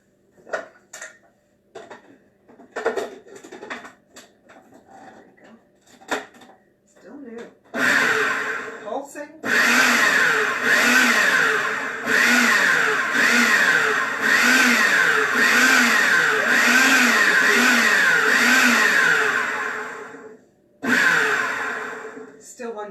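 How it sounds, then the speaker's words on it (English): Mushrooms and onions whir in a blender for several loud seconds, with the motor's pitch wavering as chunks catch, ending abruptly and starting again briefly, after scattered kitchen clatter and talk at the start. "mushrooms and onions are ready to get whizzed up"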